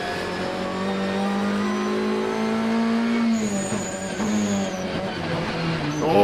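Ferrari and Audi GT race cars battle at Zandvoort, engines roaring loudly in sustained high revs, with a shift in pitch midway as one car passes and another engine note rises over the first.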